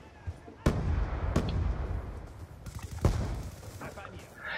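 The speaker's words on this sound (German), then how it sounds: "Granate fliegt!" Grenade blast in Black Ops 2 amid gunfire: several sharp explosive cracks and booms spaced across a few seconds over rumbling battle noise, with a voice talking throughout.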